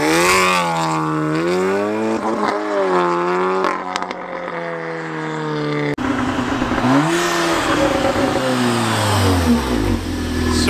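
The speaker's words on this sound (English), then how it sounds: "I'm going to use this moment to show some of you the sound of my car" A Volkswagen Golf R Mk7 engine revs hard and close, pitch swooping up and down repeatedly, then a second burst of throaty revving follows.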